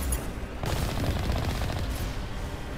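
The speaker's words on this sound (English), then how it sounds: "Wait, it looks like there's enemies shooting us" Dense bursts of enemy gunfire from a Mass Effect 1 firefight, a loud, continuous rattle of rapid shots lasting a few seconds with no talk.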